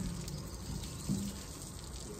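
Water is splashed onto a freshly swept dirt yard in a village to cool the ground, giving a faint, soft gushing wash with a brief louder splash near the middle and no voices.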